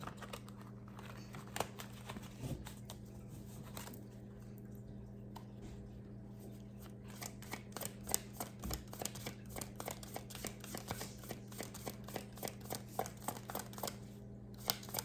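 Rapid papery riffling and soft clicking of tarot cards being shuffled, close by, in bursts over a low steady hum.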